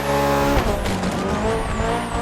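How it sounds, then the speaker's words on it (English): A BMW sports car in The Crew Motorfest races with a loud, close engine howl that shifts pitch as it revs and changes gear, with a hint of tire noise and no talk. "What an impressive sports car you're driving."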